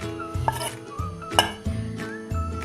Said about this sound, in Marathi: प्रत्येक वेळी आंबोळी टाकताना हे आपण तळापासून असं पीठ चांगलं हलवून घ्यायचं आहे